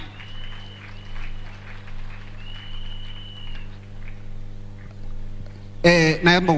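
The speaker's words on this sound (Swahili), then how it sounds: "Tuwapigieni makofi tafadhali." A crowd claps in a sudden burst of applause at the Hustler Fund launch event, breaking in loudly near the end after a stretch of quieter murmuring and a steady background hum.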